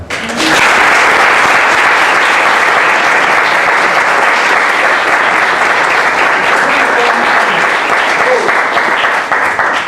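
A circus audience claps loudly and continuously for a clown at the end of the show, a dense, steady wall of applause lasting the whole stretch.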